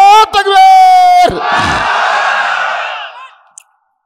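A large crowd at a Bangla-language religious sermon shouts the takbir in unison, a loud swelling roar of many voices following a sustained lead call, fading out after about three seconds.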